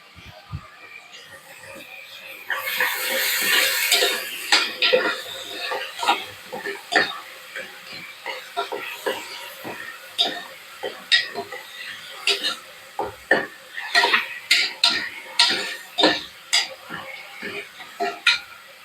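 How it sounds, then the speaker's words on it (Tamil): Onions sauté in a pan for chicken biryani, with frequent rhythmic scrapes and clacks of a spatula stirring them over a soft, steady sizzle, close and fairly loud. "வெங்காயம் நல்லா வதங்கட்டும்."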